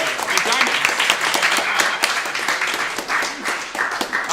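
A studio audience on a live talk show claps in a lively round of applause, dense and continuous with a few sharper individual claps standing out.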